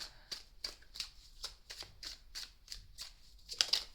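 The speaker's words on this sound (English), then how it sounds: "shuffle these cards to bring out what's coming that you don't see at the bottom of the deck" Tarot cards are shuffled quietly and rhythmically, a series of soft riffling flicks close to the listener, with no talking.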